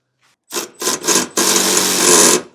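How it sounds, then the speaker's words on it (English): A deep well socket snugs down bolts on a MORryde X-Factor crossmember under a 2025 Grand Design Reflection RV: three short, loud ratcheting rasps, then one steadier grinding run of about a second, close by with no talk. "I'm going to snug it down first, and then we're going to come back with a torque wrench and torque these down"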